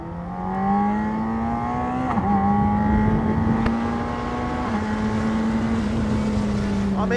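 A BAC Mono sports car engine drones steadily with a rising, throaty pitch, holding a sustained rev under load while accelerating; no one speaks over it.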